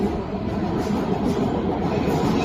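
A metro train in Austria rumbles past nearby, a loud, steady roar of rolling wheels and rail noise filling the whole stretch.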